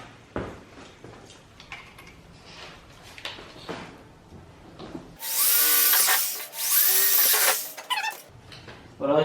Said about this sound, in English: This drill bit's dull as fuck, so we're gonna go ahead and change this drill bit out.